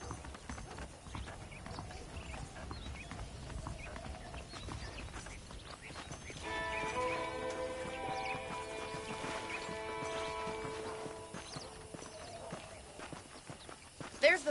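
Steady horse hooves clip-clop through the whole clip with a whinny in Red Dead Redemption, while a voice talks over them and harmonic music swells in the middle.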